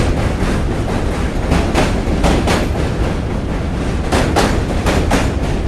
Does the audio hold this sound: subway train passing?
yes